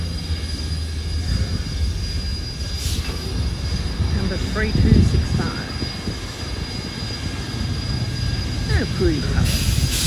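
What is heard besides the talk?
steam locomotive train arriving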